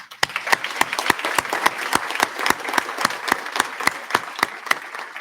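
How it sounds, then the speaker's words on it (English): Applause for award-winning students at a career center CTSO awards ceremony, a moderate crowd with distinct individual claps standing out in a brisk, uneven rhythm, sustained throughout. "big round of applause for them"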